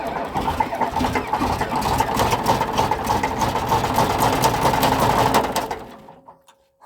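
A Komatsu D65E bulldozer that has sat for two years cold-starts and runs with a loud, rough, steady engine roar that cuts out abruptly near the end.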